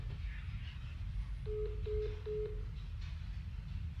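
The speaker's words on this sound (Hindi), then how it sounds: "फोन काट दिया" Telephone line tones after a customer-care call is cut off: a short run of three or four even beeps at mid pitch, quiet under a steady low background hum, with no voices.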